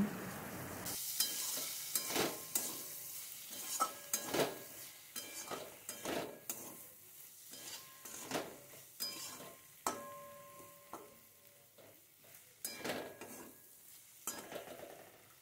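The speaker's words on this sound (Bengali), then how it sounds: "এখন আমি এটা ভালো করে নাড়াচাড়া করে নিচ্ছি" Spice mixture with Kashmiri chilli powder stirred in a pan, with Bengali prawn and taro-stolon curry cooking: repeated scraping strokes of a spoon against the pan over a light sizzle, fairly faint, no talking.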